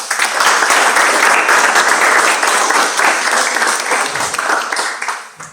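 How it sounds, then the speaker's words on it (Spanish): An audience at a science and art event applauds a professor being welcomed, a loud, steady wash of many clapping hands that holds for several seconds and tapers at the end. "recibamos con un fuerte aplauso al profesor Ángel Meléndez Reyes"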